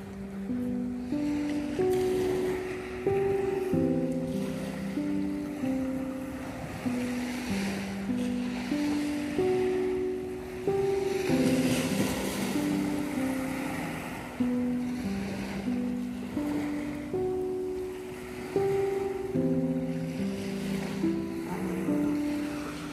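Ocean surf rolls onto a shore in steady, repeating washes, with wind buffeting the microphone and a low tonal hum running throughout. The sound is continuous and fairly loud, with no speech.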